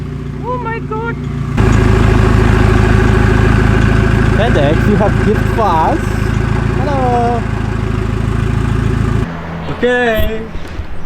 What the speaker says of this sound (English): It's making a weird rattle noise.